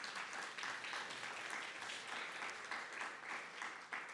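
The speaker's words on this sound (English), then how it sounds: "Another big round of applause for Connie" Steady crowd applause for speaker Connie at a talk event, a dense continuous wash of many hands clapping, fairly distant and even, lasting throughout with little talk.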